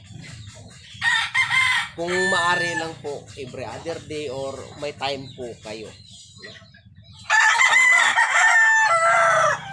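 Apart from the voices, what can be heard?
gamecock rooster crowing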